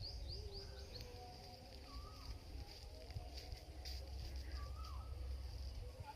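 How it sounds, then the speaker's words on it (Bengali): An Asian koel calls in spring among dense trees near a pond, two rising whistled notes carrying from a distance over a quiet outdoor hum and faint chirps of other birds. "দেখতে পাচ্ছ আমাদের এখানে কোকিল ডাকছে।"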